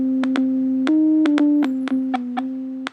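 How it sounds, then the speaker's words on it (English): Short funeral march tune from a retro video game, played in bright chiptune square-wave tones with a few clicky percussive hits, heard alone and clear. "All right, you get the little funeral march"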